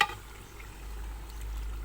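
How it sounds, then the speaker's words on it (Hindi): Chicken sizzling in a pan after a splash of water, with a sharp initial spit settling into a steady, soft frying hiss that continues alone. "हमने इसे 2 से 3 मिनट भूना। अब हम इसको पानी का छींटा लगाएंगे"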